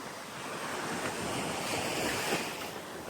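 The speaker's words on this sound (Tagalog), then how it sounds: "high tide siya ngayon saka malakas yung alon" Ocean waves wash in at high tide on Puka Beach, Boracay, a steady broadband roar of surf with wind noise buffeting the microphone, close and continuous without a break.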